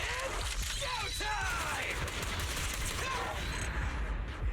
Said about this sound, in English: Boss riddled with bullets and out of our way.